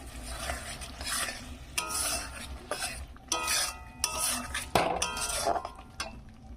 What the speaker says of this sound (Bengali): এবার এখানে আমি আলুগুলো দিয়ে দেবো। আলুগুলো দিয়ে একসাথে ভালো করে কষে নেবো।